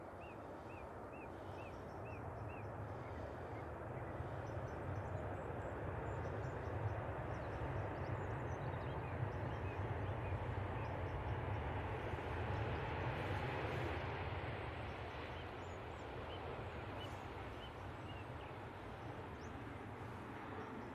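An airliner lands at Manchester Airport in a crosswind, crabbing with the rudder working hard. A steady, loud broadband jet roar swells through the middle and then eases slightly.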